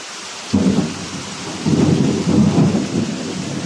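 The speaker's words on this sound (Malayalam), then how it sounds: "അത് കേൾക്കാം ഞങ്ങളുടെ ഇടിമുഴുക്കമൊക്കെ" Low, heavy thunder rumbles in two long rolls, with steady rain hissing underneath throughout.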